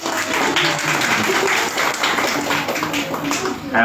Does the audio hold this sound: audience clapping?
yes